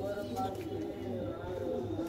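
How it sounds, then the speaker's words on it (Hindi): Pigeons coo softly in a loft, low rhythmic throaty coos repeating through the short stretch while someone talks over them. "ये कबूतर है, ये मादी लगाई है इस मखियाले से"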